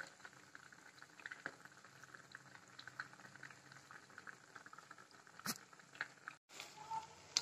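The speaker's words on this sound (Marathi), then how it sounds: "हे बघा आता मेंदू वडा असा तळायला" Medu vada frying in hot oil in a kadai give off a faint, steady bubbling hiss with soft crackles and a couple of brief clicks, with no talking.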